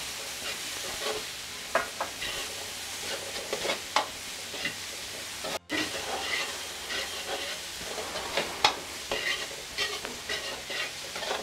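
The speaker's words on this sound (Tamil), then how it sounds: "செவகிற வரைக்கும் நம்ம இதை கொஞ்சம் கிண்டிக்கிட்டே இருக்கணும்." Onions for prawn thokku fry in a pan while being stirred, with a constant hiss and repeated scraping, clattering strokes of the spatula. A short dropout occurs midway.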